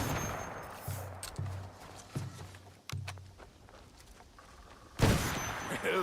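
A heavy firearm in Assassin's Creed Shadows, with a sudden loud boom near the end after muffled footsteps, clanks and low thuds against a busy background.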